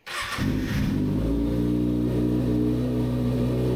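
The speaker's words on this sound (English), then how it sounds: "I'm gonna turn the bike on so we could see the full thing" A Kawasaki ZX6R sport bike engine cranks and fires at the very start, briefly revs, then settles into a loud steady idle with a strong low hum, close up and with no speech.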